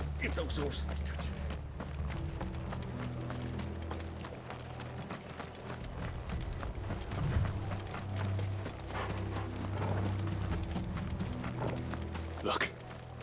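Horse hooves clip-clop at a steady walking pace in the Final Fantasy XVI video game, mixed under a low music bed and ambient noise, with voices speaking over parts of it.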